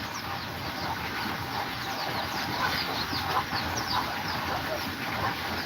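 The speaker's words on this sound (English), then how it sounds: "There they go with their mom. You can hear her clucking." Clucking from a mother hen among free-ranging native chickens in a garden, soft repeated calls over a steady outdoor background hiss, with occasional voices nearby.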